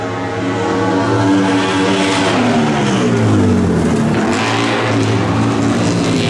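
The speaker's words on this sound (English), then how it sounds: "Listen to this BMW come down here." BMW race car coming down the track at a fairground, loud engine roaring close by, its pitch sweeping down and then climbing again as it passes and accelerates away.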